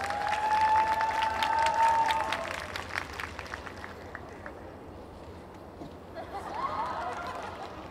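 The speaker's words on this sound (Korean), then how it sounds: "큰 박수 부탁드리겠습니다." Audience applause at a jazz festival open mic jam session in Seoul, a dense round of clapping that swells at the start and then tapers off, with crowd noise and talk mixed in.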